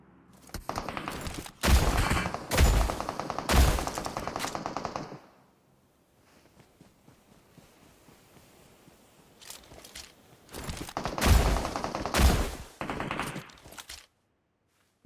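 PUBG Mobile gunfire arrives in two clusters of rapid automatic bursts separated by a quieter stretch, loud sharp volleys in the video game.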